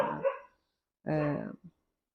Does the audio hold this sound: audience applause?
no